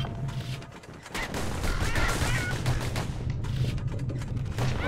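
Rapid bursts of gunfire-like shots from a power shot in the video game Bastion, with dense overlapping cracks and metallic clatter that sound close and fairly loud.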